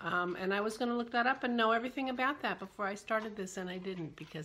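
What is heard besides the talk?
No distinct noise like a dog, phone or traffic.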